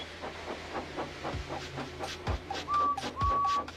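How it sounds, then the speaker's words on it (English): A steam locomotive puffs in quick, regular chuffs, then a short high whistle-like tone rings out near the end. "So they lit his fire, made lots of steam, and Edward puffed away."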